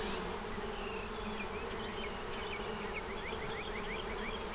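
Honey bees drone steadily around an opened, honey-bound hive, a dense continuous buzz with a few higher individual bees passing close to the listener, no talk.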